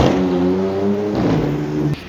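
A Porsche Macan drives past at a city fuel station, a steady close engine hum with a brief rise in pitch as it passes, ending in a sharp short knock, with no talking.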